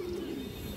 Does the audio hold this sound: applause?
no